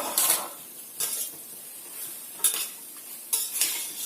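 Ginger garlic paste fries in oil in a pot under a low sizzle, broken by about four sharp scraping bursts from a spoon stirring against the metal.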